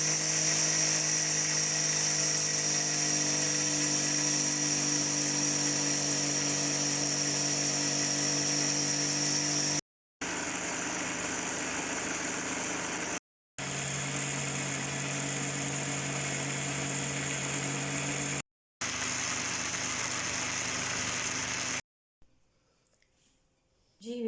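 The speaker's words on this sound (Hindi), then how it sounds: "इसमें इतना ज़्यादा इसको ग्राइंड करना है कि इसमें जो दाना है वो बिल्कुल ख़त्म हो जाए" A grinder blends sesame seeds with cooking oil into smooth tahini paste, a loud continuous motor whir that stops and restarts several times in short bursts before cutting out near the end.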